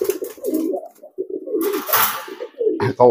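Pigeons cooing up close in soft, repeated throaty rolls, broken by a burst of rustling or flapping noise and a couple of sharper calls near the end.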